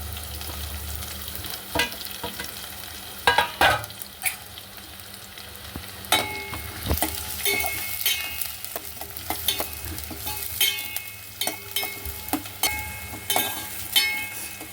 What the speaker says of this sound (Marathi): हा कांदा घातला आणि हा कढीपत्ता घातला.